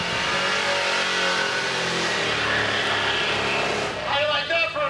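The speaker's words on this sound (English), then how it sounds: "How do you like that for a burnout?" A car does a burnout at a drag race, a loud sustained engine roar with revving and tire noise that runs throughout, with crowd or announcer voices mixed underneath.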